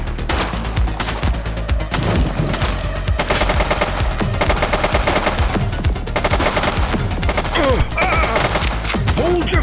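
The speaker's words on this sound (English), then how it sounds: "He's shooting!" Sustained automatic gunfire in the police video game The Precinct, rapid loud bursts of shots rattling almost continuously with brief gaps, dense and close.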